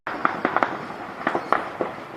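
Gunshots crack during armed fighting in Goma, a handful of sharp reports in two loose clusters with short gaps, fairly close and loud, and nobody speaking.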